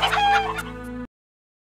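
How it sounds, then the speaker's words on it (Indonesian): Chickens cluck loudly and close by while a rooster crows in a brief, busy burst of about a second that stops abruptly into silence. "Ayam saya!"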